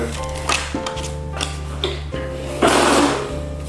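A banknote counting machine whirs and clicks as notes are fed through, steady mechanical hum with rhythmic ticks and a louder rushing flurry near the end.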